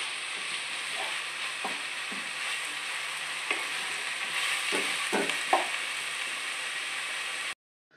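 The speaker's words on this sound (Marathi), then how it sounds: "कांदा हलवून घ्यायचा," Onions sizzle steadily in a hot pan while being stirred for chhole, a constant close frying hiss broken by several soft scrapes and taps of a spoon, with no talk.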